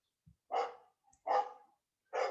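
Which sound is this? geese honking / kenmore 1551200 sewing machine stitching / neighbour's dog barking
neighbour's dog barking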